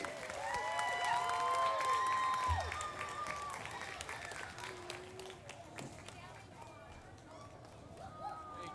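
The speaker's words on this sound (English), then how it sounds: "ladies and gentlemen, let's hear it for our volunteers" An audience at a community event applauds volunteers, a broad wash of clapping and cheering that swells early and then thins, with a voice talking over it.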